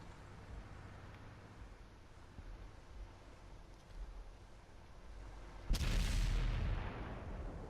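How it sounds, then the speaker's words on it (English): A burst of gunfire rings out in a competitive tactical shooter match on the Pilsen map, a single loud broadband volley arriving suddenly and fading over about two seconds against a low, steady game ambience. "Shots fired, Seducer is now reloading."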